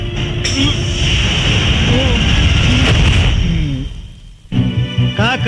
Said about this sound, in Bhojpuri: रामायण साला दोगला पुलिस वाले पर गोली चलाता है।